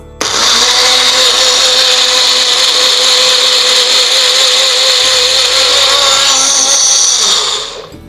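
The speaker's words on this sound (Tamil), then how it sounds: "பப்பாளி பழத்தோட ஆப்பிள் சேர்த்து நம்ம இஞ்சி சேர்த்து அரைக்கிறோம்." A kitchen blender grinds papaya, apple and ginger with a loud, steady motor whine that runs for several seconds and then winds down, heard close and alone.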